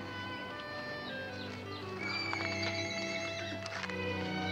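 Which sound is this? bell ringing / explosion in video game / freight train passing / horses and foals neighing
horses and foals neighing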